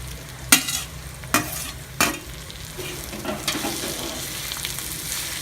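Grated raw mango tipped into a hot pan for mango rice and stirred, with three sharp scraping clatters early on over a steady soft sizzle, close and fairly loud.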